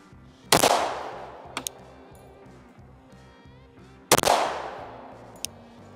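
Two sharp, loud pistol shots from a handgun fitted with a red dot sight, firing Buffalo Bore rounds at an outdoor range, each crack followed by a ringing decay, with faint clinks between.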